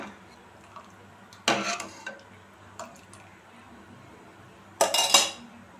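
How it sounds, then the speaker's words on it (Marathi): A metal lid is set on a pot of tomato rasam, giving two sharp, close clanks a few seconds apart, with light ticking and clinking between them. "दहा मिनिटं मी झाकण ठेवते याला उकळी येऊन देऊया"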